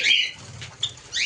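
Pigeons shaking water off after a bath, short bursts of wing flapping and rustling feathers at the start and end, close by with no voices.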